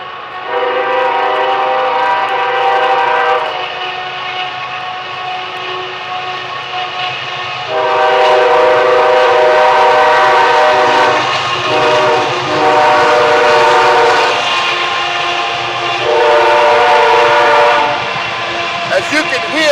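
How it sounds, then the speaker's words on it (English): A train passing close by a garden, with loud sustained horn blasts in several long bursts over a rumbling rail noise, and a voice talking at times. "As you can hear, we are right by a train."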